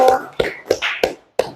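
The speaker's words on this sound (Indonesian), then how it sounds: "Tepuk tangan untuk kelompok" Classroom applause for a student group that has just finished presenting, heard as a few sharp, evenly spaced hand claps close by, about five distinct claps with short gaps rather than a sustained round.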